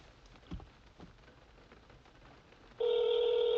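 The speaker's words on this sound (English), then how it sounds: "Let's get Joey on the phone." A telephone call is placed on a live call-in show. After a few seconds of faint crackling, a steady electronic ringing or dial tone comes in abruptly and holds loudly to the end.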